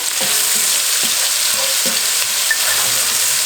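Onion frying with salt in a pan for cumin rice, a steady close sizzle with a few soft stirring scrapes and no voices.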